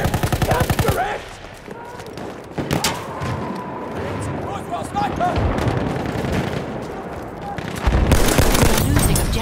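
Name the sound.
machine gun fire in video game Battlefield 1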